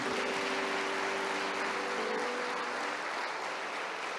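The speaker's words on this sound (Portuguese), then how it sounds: "Vamos aplaudir a Jesus." A church congregation applauds steadily for several seconds, a dense wash of clapping that fades slightly toward the end, with a faint sustained tone underneath.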